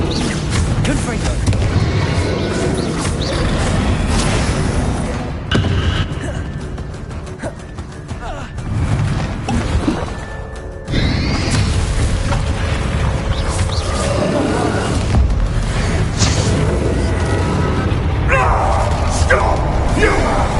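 Confringo fire spell explosions in the Hogwarts Legacy video game, loud booming blasts and crackling bursts layered over dense battle noise and game music, with voices talking throughout.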